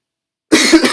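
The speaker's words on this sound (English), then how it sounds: "sorry, I have the cough." After a moment of silence, a single harsh, close cough bursts out loudly, rough and throaty.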